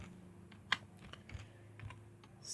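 Code being typed on a computer keyboard, quiet close clicks of separate keystrokes at an uneven pace with one sharper key press, no talking.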